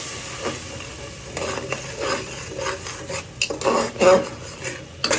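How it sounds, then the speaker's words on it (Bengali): A spoon scrapes and clinks against a cooking pot while spice paste is stirred and fried, irregular metallic knocks and scrapes coming in bursts, close and moderately loud. "মশলাটা সুন্দর করে কষাবো"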